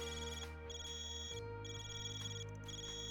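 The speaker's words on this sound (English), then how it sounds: "Vaughn, your Zypha's ringing." A Zypha communication device rings in Trails Beyond the Horizon, a repeating electronic tone in short pulses that sits softly over a sustained background music bed, with no voices.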